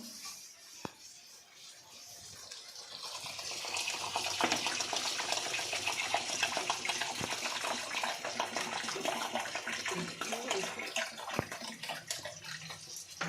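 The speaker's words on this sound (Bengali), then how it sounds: "চলো এবার আমি চালটা এখানে দিয়ে দেবো জল দিয়ে দিয়েছি চালে" Water gushes and pours onto rice in a pot while cooking at home, a steady splashing flow swelling after a quieter start, with faint clinks around it.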